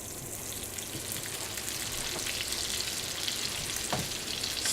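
Salmon cooking in a hot pan gives a steady, close sizzle and crackle that grows slightly louder over time, with a faint tap near the end and no talk.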